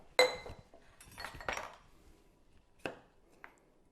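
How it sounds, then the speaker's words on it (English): A knife cuts fresh cucumber on a board in a few sharp, separate strokes with quiet gaps between them, close by and fairly soft. "You can do anywhere between 2 and 3 slices depending on what kind of cucumber."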